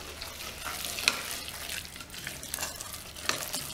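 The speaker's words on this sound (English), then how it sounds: "we're just going to mix it in" Ingredients for a raw double chocolate fudge brownie cheesecake are being stirred together, a steady wet scraping and mixing sound with a couple of sharper clicks of a utensil against the bowl.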